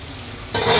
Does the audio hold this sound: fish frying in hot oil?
yes